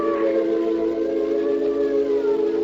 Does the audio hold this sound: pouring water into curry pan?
no